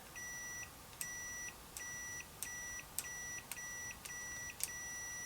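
A Redfish iDVM550 clamp meter in continuity mode gives a series of short, faint electronic beeps, about eight evenly spaced tones repeating roughly every half second, each starting with a small click.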